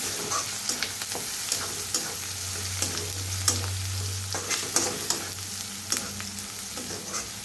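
Onion and tomato fry in a pan with turmeric and coriander powder, making a continuous close sizzle broken by frequent scraping clicks as the mixture is stirred.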